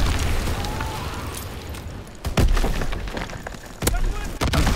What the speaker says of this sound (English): Enemy bomb exploded!